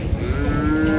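A large bull bellows at a crowded Eid cattle market, giving one loud, close, drawn-out moo with a rising tone over a low murmur of background activity.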